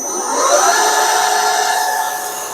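A drill boring a hole through a metal block clamped on parallels in a vise, a steady close whirring machine tone with a sustained cutting hiss, swelling slightly midway and running alone without talk.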